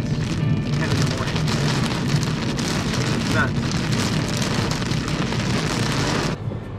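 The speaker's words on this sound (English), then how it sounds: "Look at these raindrops. Pretty big ones. Big fat raindrops." Big fat raindrops falling heavily on a dark stormy morning, a loud dense continuous patter and roar close by, steady throughout before a slight drop near the end.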